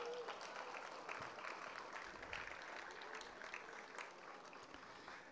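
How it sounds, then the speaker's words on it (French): At the outdoor opening ceremony of the Raid Témiscamingue 2023 rally, a crowd applauds. The clapping sounds faint and distant, with a dense, even patter that runs steadily for about five seconds. "Bonne main d'applaudissements encore une fois, s'il vous plaît"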